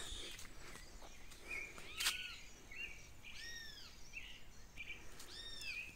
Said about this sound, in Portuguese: Que legal que eu ouvi o canto da águia